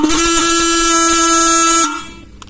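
A motorcycle horn is tuned by loosening its adjustment screw, then blares as one loud, steady, buzzy tone for almost two seconds before cutting off into near silence.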